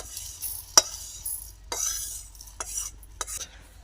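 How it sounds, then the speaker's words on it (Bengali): Moong dal is dry-fried in a kadai, with a few separate scraping strokes of a spatula against the pan and soft rustling between them, close and fairly quiet. "ভালো করে ডালটা আমি একটু ভেজে নিচ্ছি কড়াইয়ে দিয়ে মুগের ডাল"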